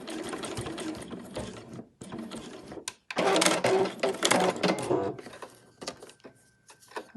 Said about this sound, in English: Pop that under my sewing machine, and then I'll just do a few stitches forward and a few back